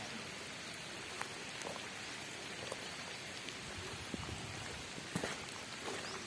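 Steady rain falls during a flood, a dense, even hiss with scattered louder drops and brief splashes, heard alone with no talk.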